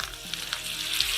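Onion pakora batter fries in hot oil at medium-high heat, giving a close, continuous crackling sizzle with small pops and bursts throughout.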